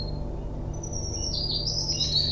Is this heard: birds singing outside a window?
yes